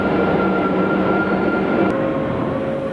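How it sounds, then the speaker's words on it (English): Panama Canal towing locomotives pulling a ship through the locks, a steady, continuous rumble and mechanical drone with faint tonal whine, sustained and even throughout, no talk. "moving on through the locks assisted and towed by the locomotives"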